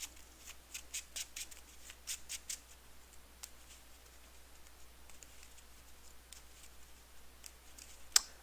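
Arkham Horror card game cards being shuffled in a series of quick crisp riffles and taps, close and fairly quiet, with a sharper snap near the end and no voices.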